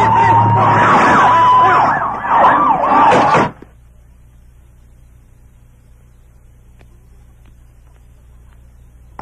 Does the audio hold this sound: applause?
no